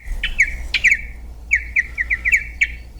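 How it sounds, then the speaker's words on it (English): An unidentified bird sings a melodious series of clear, bright whistled notes at close range, delivered in short irregular bursts over a low background hum. "There is the pretty melodious sound of our mystery bird."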